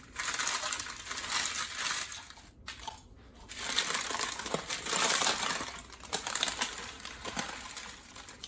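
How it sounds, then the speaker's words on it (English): Dehydrated onion pieces are peeled off drying paper before being ground into onion powder, giving a steady, close crinkling and crackling rustle with a couple of brief pauses. "We're just gonna go ahead and peel these off the paper and get our grinder loaded up."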